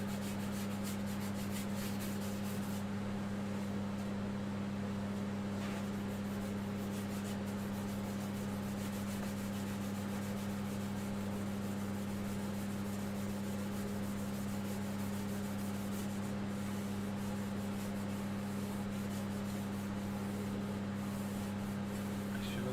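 Beeswax rubbed onto a large wooden platter as it spins on a wood lathe: a steady motor hum runs throughout beneath a continuous soft, close rubbing friction, with no talking.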